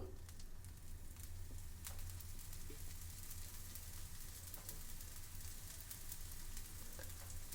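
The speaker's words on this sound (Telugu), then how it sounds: "ఇప్పుడు దోశ మీద ఆయిల్ వేసుకుందాము" Oil sizzling steadily on a masala dosa frying in a hot pan, a dense, even crackle throughout with occasional faint clicks and no talk.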